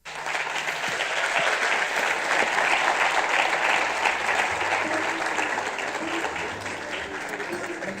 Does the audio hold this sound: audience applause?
yes